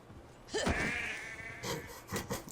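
A single sheep in the video game Assassin's Creed Valhalla bleats once in a wavering cry, followed by a few soft rustling thumps nearby.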